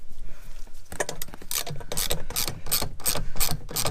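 Rapid ratchet clicking in bursts while the strut top plate nuts come undone on a Subaru Forester during a Pedders EZi Fit strut swap, loud and close with short pauses between runs, no talk.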